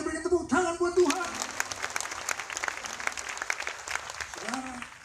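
A congregation at a church healing crusade in Manado bursts into loud, sustained applause, many hands clapping densely for several seconds, with a speaking voice heard at the start and again near the end.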